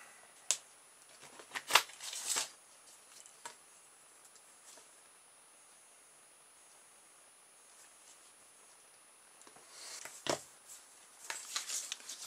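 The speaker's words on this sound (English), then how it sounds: "got a bit of card here. I'll cut it to the right size" Scissors cutting a piece of card in a quiet room: a few sharp snips and paper rustles near the start, a long quiet stretch, then another cluster of snips and crinkles at the end.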